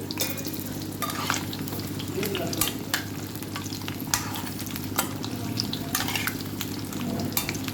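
Gooseberries bubble and sizzle in a pan as pickle is cooked, with a steady frying hiss and frequent sharp pops and crackles close by.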